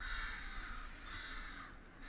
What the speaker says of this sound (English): What's up with those birds?